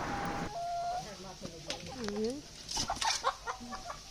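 Village chickens about to be slaughtered cluck and squawk in short, scattered calls, fairly close by, with voices talking nearby and other outdoor noise around them.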